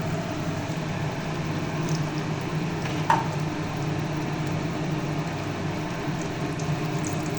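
Ash gourd fritters in gram flour batter with rice flour, nigella seeds, salt and turmeric, bubbling and sizzling in hot oil, a steady, fairly loud frying hiss with one brief sharp pop midway.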